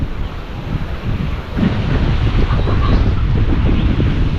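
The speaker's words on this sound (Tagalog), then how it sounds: "Lakas ng hangin ngayon, amihan na naman." Strong northeast monsoon (amihan) wind buffets the microphone in a continuous roar, growing heavier partway through, with rushing water faintly beneath.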